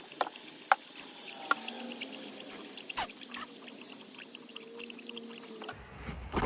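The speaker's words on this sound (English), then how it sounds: "I'm just gonna add radiator fluid and just let it bleed." Radiator fluid being poured into a car radiator, a faint thin trickle against quiet background with a few soft clicks and knocks.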